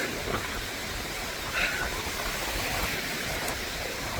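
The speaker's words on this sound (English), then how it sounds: "If the waves are too loud on this, enjoy. It's kind of windy today." Wind and waves along the Lake Michigan shore on a windy day, a steady broad rushing wash with faint surges, close and continuous, with no voices.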